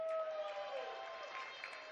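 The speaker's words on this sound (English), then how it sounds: "Round of applause for our amazing chief prosecutor, Jake Hudnut" An audience at a cannabis dispensary gathering applauds for the chief prosecutor, a soft continuous patter of many hands heard faintly, with a tonal hum running beneath it.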